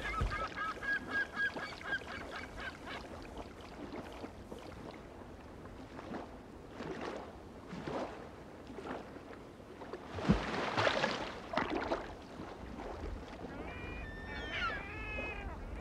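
California gulls call repeatedly in the wild: harsh, honking cries in irregular bursts, fairly faint and mixed with splashing and background noise, with a cluster of higher squeals near the end.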